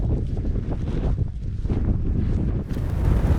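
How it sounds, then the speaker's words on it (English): Strong wind roars and buffets the microphone continuously among rock formations in Montana, a heavy low rumble with gusty swells throughout. "It's really windy."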